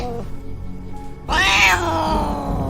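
A cat named Esmeralda gives one loud, drawn-out meow close by, after a quieter stretch of background sound.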